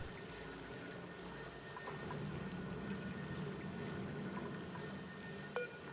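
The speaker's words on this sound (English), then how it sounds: "That's a lot of water pours out here." Quiet, continuous pouring water streams without pause in Oxygen Not Included, a low, even rushing wash with a faint click near the end and no voices.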